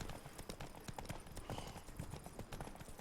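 Hooves of Roach, the horse in The Witcher 3: Blood and Wine, clop in a fast, rhythmic gallop at moderate volume, with a steady beat and scattered game sounds.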